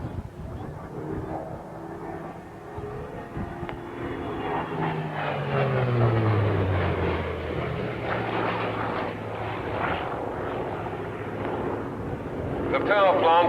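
A Hawker Fury FB-11 with its 2,480 horsepower Bristol Centaurus 18-cylinder sleeve valve radial engine and five-blade Rotol propeller roars past at an air show, a sustained heavy drone rising and falling as it passes.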